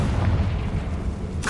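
Bombarda and Confringo spell blasts in Hogwarts Legacy, a heavy, rumbling explosion that stays loud through the whole short moment, with a bright burst at the very end.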